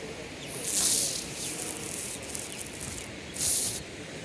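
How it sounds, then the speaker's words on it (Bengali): Water rushes steadily through the open barrage gates on the Teesta river, a broad continuous hiss with two louder surges near the start and end. "সুন্দর একটা জলের শব্দ গেটগুলো খোলা থাকলে"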